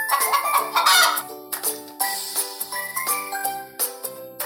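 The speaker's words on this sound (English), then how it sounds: "Chicken," A cartoon chicken clucks in a kids' educational animal puzzle game, several bright clucks over light jingling game music, loud and close.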